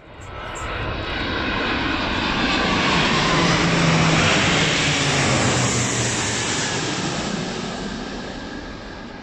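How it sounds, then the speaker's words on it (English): A pair of Airbus A340 airliners fly in formation with Silver Falcons aerobatic jets, making a loud, broad engine roar that swells as they pass overhead and slowly fades. "A pair of A340s flying in formation with a couple of Silver Falcons."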